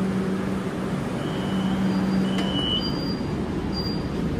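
Steady low rumble of a metro train running along the track between Airport and Noapara, with a faint high-pitched wheel squeal partway through and no voices.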